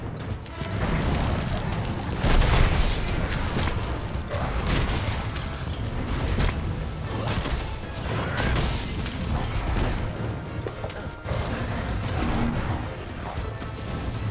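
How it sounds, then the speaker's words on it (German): A dense, continuous roar of rumbling booms and crashing, clattering debris from explosions in the video game Monster Hunter World: Iceborne goes on without pause, heavy and loud throughout. "hier explodiert ja gleich alles"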